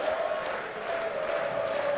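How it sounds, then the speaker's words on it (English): A darts crowd in a packed hall at a professional tournament in Austria sings a steady, sustained terrace chant, a distant, even wash of massed voices that holds without breaks. "our first rendition of the weekend of Stand Up If You Love the Darts"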